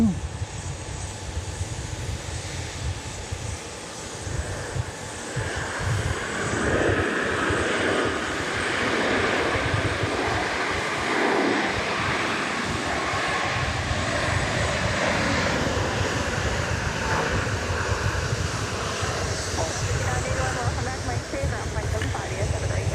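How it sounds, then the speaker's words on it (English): A Boeing 737-700 comes in to land at Dallas Love Field, its engines a broad, steady roar rising and swelling in the middle, while people talk over the noise. "It'll be a 737-700 model as we watch a plane come in for a landing"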